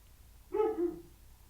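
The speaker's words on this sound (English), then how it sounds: "the barking dog in the background" A single background dog bark rings out, a clear two-part woof of under half a second, alone against a quiet room.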